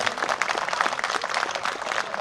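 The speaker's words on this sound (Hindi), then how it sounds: "एक बार इनके लिए भी जोरदार ताली हो जाए" A crowd at a mass Nikah wedding gathering in Ahmedabad claps in a dense, continuous burst of applause, moderately close and without talk.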